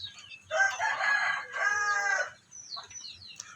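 A rooster crows loudly and close by on a farm, two long harmonic calls back to back, followed by softer clucking from chickens.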